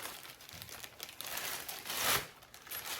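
A Parts4Star Starlink Mini tripod is slid into its fabric carry sleeve, giving a close, continuous crinkling and rustling that swells to a louder scrape near the end, with no talking.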